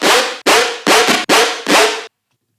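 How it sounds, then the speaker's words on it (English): Five loud, gritty riddim growl bass notes made in Serum, each about a third of a second, in a quick rhythmic burst, then silence. "So the main growl sounds like this."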